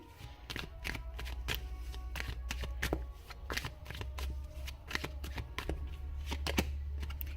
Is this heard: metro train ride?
no